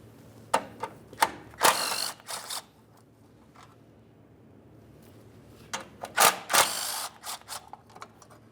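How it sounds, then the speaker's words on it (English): A hand ratchet works 13mm bolts off an underbody shield on a 2002-2007 Chevrolet Trailblazer, with two separate bursts of quick clicking ratchet strokes parted by a quiet pause, close and crisp. "we'll remove these 2 13mm headed bolts"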